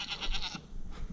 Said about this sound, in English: We got the goats.